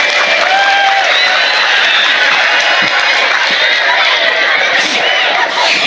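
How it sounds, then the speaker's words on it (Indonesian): Crowd noise at an outdoor Muslim women's religious gathering, with a dense, steady wash of applause and mixed voices holding at a loud level for several seconds. "Oh ya, tepuk tangan dulu, makasih."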